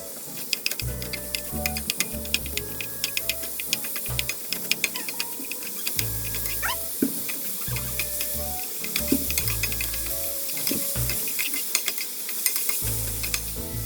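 Ground beef fries in a pan with a steady sizzle and hiss, while a utensil stirs and scrapes in irregular bursts close by and no one speaks.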